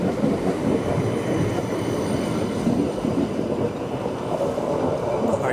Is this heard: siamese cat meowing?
no